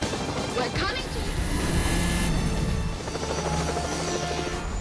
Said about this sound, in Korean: 프랭크는 람보르기니 무르시엘라고로 헬리콥터를 타고 도망치는 지안이를 쫓습니다